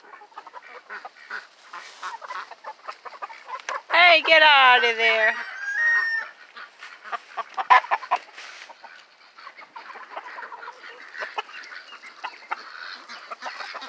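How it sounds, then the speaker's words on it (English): Farm chickens cluck and call around a makeshift nest area, with a loud, drawn-out squawk near the middle and someone briefly speaking over the scattered clucks. "What is that chicken doing on top in there?"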